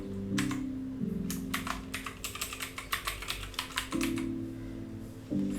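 Someone types a username and password on a computer keyboard in a steady run of close, crisp keystrokes over a constant background hum, with no one speaking.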